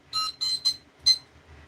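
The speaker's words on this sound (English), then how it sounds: "there goes the timer." A timer alarm goes off during an online auction, sounding four bright electronic beeps in an uneven rhythm, fairly close and alone.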